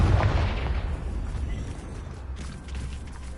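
A Confringo blasting spell explodes in the video game Hogwarts Legacy, a loud, deep boom at the start that rolls off into a rumbling decay.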